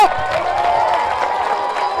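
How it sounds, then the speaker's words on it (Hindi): A church congregation clapping and cheering as they stand to applaud in praise, a loud and dense crowd sound with voices mixed in, heard close. "खड़े होकर तालियां बजाए उसके लिए, बोले धन्यवाद प्रभु"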